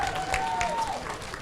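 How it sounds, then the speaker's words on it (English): An outdoor crowd at a park grand opening claps in a warm, dense round of applause, moderately close, while a faint whistle-like tone glides through the first part. "give Megan a warm round of applause."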